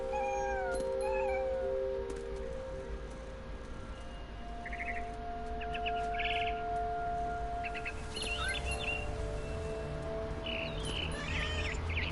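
Cat meowing in the video game What Remains of Edith Finch, several short meows early on followed by bird chirps and tweets over a quiet game ambience.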